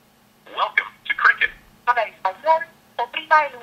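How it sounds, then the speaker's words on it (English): An automated Cricket customer line answers a 611 call placed from a Motorola Q phone, heard as a narrow, tinny recorded voice through the handset speaker in several short phrases. "Let's just call 611 to confirm it is on Cricket."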